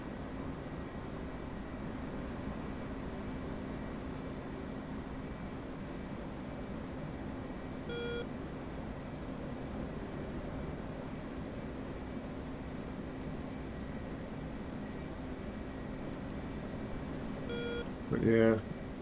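Cockpit altitude warning beeps sound in the DCS flight simulator, short electronic beep bursts heard twice over a constant engine drone, the second near the end with a voice briefly speaking.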